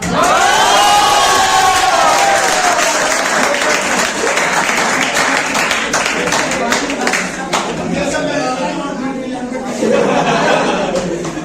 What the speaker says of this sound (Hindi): शायरी तो मैं सुना दूंगा, आप बस ताली बजा दो